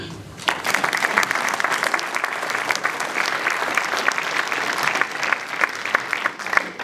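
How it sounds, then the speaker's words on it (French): An audience at a municipal speech breaks into sustained applause, dense continuous clapping that swells slightly and holds steady throughout, close and loud. "Donc je vous demande de les applaudir."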